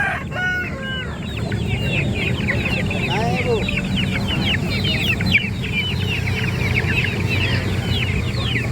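Local Bangkok chicken chicks peep in rapid high chirps over a steady farmyard hum, with clucking and a voice nearby.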